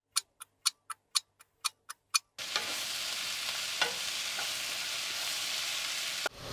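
Beef with mushrooms, onions and ginger sautéing in a pan: after a run of evenly spaced sharp ticks, a steady close sizzle takes over with occasional light scrapes, ending on a brief knock.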